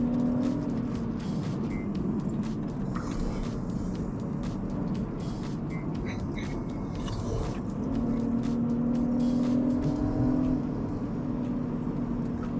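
A high-mileage BMW F30 driven hard, heard from inside as a steady loud engine and road roar with a rising and falling engine tone, no talk over it.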